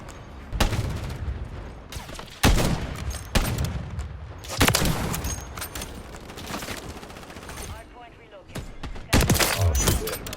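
Sharp bursts of gunfire in a video game, including sniper shots, popping out several times at irregular intervals over continuous background sound.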